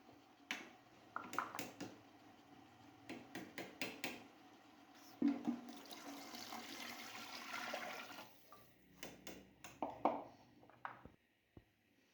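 Six cups of water are poured into a cooking pot for chicken egg fried rice, a rushing splash of several seconds set among scattered clicks and knocks of kitchen handling.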